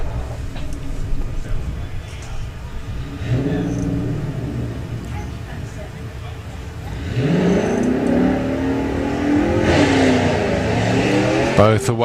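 A Jeepster and a Mustang launch off the line at a drag racing event, engines rumbling at idle and then surging into a loud, rising roar, while a commentator talks over the sound.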